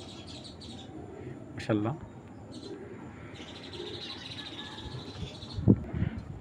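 Large Bezi pigeons coo softly among scattered chirps. A voice briefly speaks over them.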